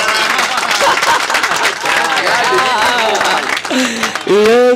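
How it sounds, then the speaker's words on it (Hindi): Audience at a Hindi comedy poetry show clapping and cheering in a crowd, the applause blending with a performer's voice speaking over it. "बजाइए तालियां।"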